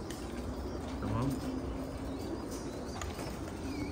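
Pigeons coo faintly in a rooftop loft, soft low calls drifting under a steady background hum with a brief rustle of wings, no talking over them.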